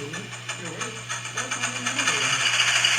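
An Atlas Classic RS3 model locomotive's DCC sound decoder runs its diesel engine start-up, a steady mechanical chugging and rumble that builds and grows louder and brighter over a few seconds, heard alone.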